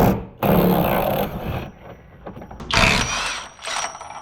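A hand ratchet clicks and whirs up close, backing out 18 mm factory frame bolts on a Jeep during a rock slider install, in a few quick loud bursts with brief gaps.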